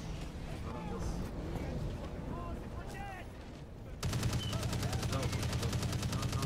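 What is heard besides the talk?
gunfire in a video game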